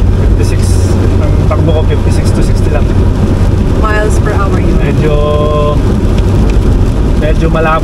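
Heavy rain drums steadily on a car as it drives with the wipers running, a dense unbroken wash of water noise throughout, with faint voices and small clicks underneath.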